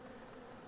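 Bees buzz around a beehive in a brief, faint, continuous drone.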